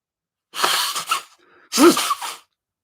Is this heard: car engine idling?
no